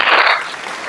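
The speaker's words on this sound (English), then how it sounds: "give us a round of applause" A short burst of audience applause closing a business interview session, loud at first and then thinning as it tails off within a second.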